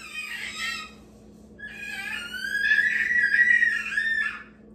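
A baby girl screaming indoors at home, two shrill bursts, a short cry then a longer sustained high scream, loud and close with no talking.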